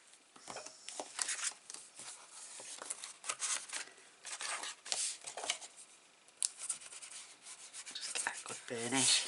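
Soft, uneven rubbing and scraping of a tool burnishing paper for a handmade mini album, faint and close, in irregular strokes with brief pauses and no voices.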